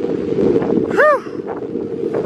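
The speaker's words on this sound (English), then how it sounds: "Sure is quite windy out here." Strong wind buffets the microphone on a beach at Waikoloa Village, a loud continuous rumbling roar with a brief rising-falling vocal exclamation in the middle.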